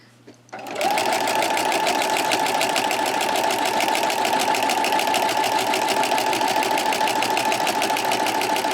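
A sewing machine fitted with a walking foot and quilting guide stitches a wavy line at medium speed, starting after a brief quiet moment and then running as a steady, loud, close mechanical whir and rapid needle chatter.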